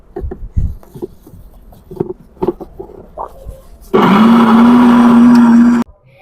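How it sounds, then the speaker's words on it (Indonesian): An electric blender grinds a spice paste with cracked eggs mixed in, starting abruptly partway through as a loud, steady whirring roar with a high motor whine that runs for about two seconds, then cuts off, after quieter clatter and handling sounds. "Bumbu siap di blender."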